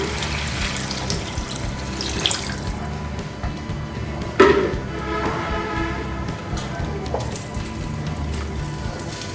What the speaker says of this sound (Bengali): সাড়ে তিন কাপের মতো আমি পানি দিব